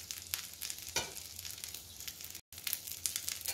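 A cheese masala chapathi crisps on a hot pan, giving a steady soft sizzle with a few brief louder crackles. The frying is quiet, close and alone, with one very short dropout.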